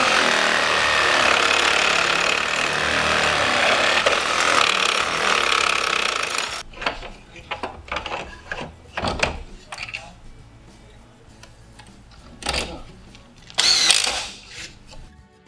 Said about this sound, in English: After you clamp your Silca Grate to something stable so you have a good surface to cut, then you'll start cutting.